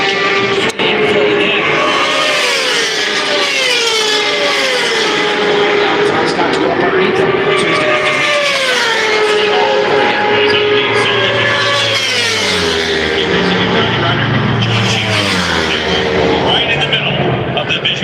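Racing motorcycles lap the Daytona 200 after a rain restart, engines rising and falling in pitch as they sweep past in repeated waves, loud and continuous, with a commentator talking over the noise throughout.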